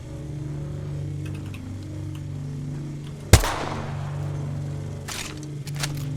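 A single sharp gunshot rings out in Apex Legends, one loud crack over a steady low game hum, followed by a few fainter distant pops near the end.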